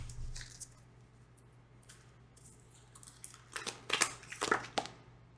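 Tarot cards being shuffled in a different way, mostly quiet over a low hum at first, then a cluster of soft crisp card slaps and riffles near the end, close by.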